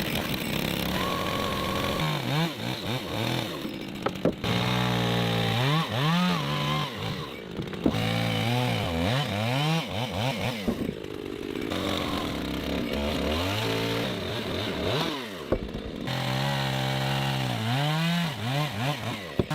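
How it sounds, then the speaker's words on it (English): A chainsaw cuts and levels the protruding log ends on the wall of a hand-built wooden house, its engine revving up and dropping back in repeated surges, loud and close, with short pauses between cuts. "The extra logs sticking out from the wall are being cut and leveled with a chainsaw."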